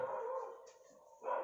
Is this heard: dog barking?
yes